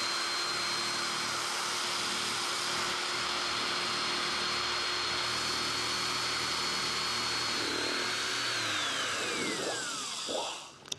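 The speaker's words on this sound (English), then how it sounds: "We're using an electric shear because it makes a beautiful straight cut." An electric shear cuts a straight line through an Airstream countertop, a steady loud whine running continuously under the whole stretch before the motor winds down near the end.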